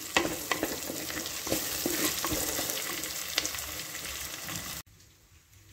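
Onions and asafoetida fry in a pan with a steady, dense sizzle and occasional stirring scrapes, ending abruptly in a much quieter tail.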